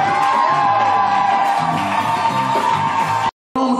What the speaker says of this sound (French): Sous vos acclamations, des cris de joie.